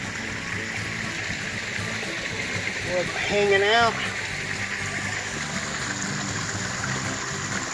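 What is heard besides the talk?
garden waterfall flowing into pond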